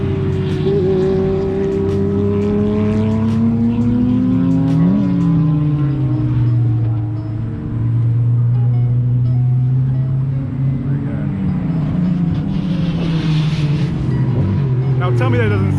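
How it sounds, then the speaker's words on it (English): Several cars racing together on a track, a BMW M2 among them, engines droning and rising and falling in pitch as they pass and accelerate, loud and continuous, with a voice talking over parts of it. "we got multiple cars on the track at the same time"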